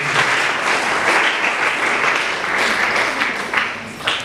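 An audience at an International Day of the Girl ceremony in Bandundu applauds a newly introduced deputy treasurer, with steady, loud clapping and a few sharper individual claps.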